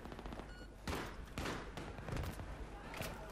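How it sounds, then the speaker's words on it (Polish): Explosions and gunfire in a Battlefield 3 multiplayer match, with several sharp blasts and bursts at about one, one and a half and two seconds over a steady din of battle. "Coś tu wybuchło."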